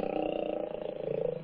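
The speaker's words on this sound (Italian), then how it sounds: "Ah, non è un gatto, è un leone." A lion gives one sustained, throaty roar, close and loud, rumbling with a rough pulsing texture for about a second and a half.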